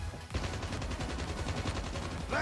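Rapid automatic gunfire in the mobile shooter Call of Duty Mobile, a loud continuous burst of closely spaced shots lasting a couple of seconds.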